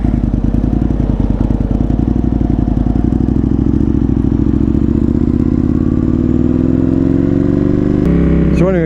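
An Aprilia Tuono 1000R motorcycle rides along with a loud, close, throbbing engine and rushing wind, the pitch climbing gradually as it accelerates, with a sharp change near the end.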